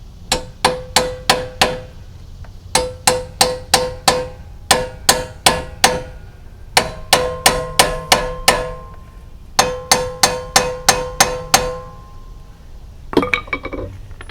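Hammer tapping bolts through on a GMC Acadia suspension job, sharp metallic clinks in rapid groups of five or six strikes separated by short pauses, close and ringing, with no talk.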